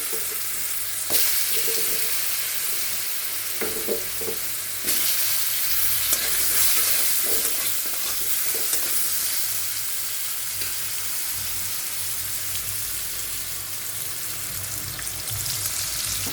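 Potato frying in a pan crackles and sizzles steadily up close, with stirring knocks and scrapes of a spoon against the pan, and no voices.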